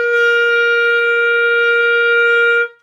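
A clarinet sounds one sustained high C with the thumb hole covered and the octave key pressed, a bright steady tone held for almost three seconds before it stops cleanly, loud and alone.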